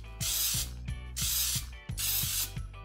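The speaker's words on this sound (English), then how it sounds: "Spray the pan well, even if it's nonstick." Three short bursts of cooking spray hissing onto a nonstick donut pan, each lasting about half a second, close up, with faint mechanical clicks between them.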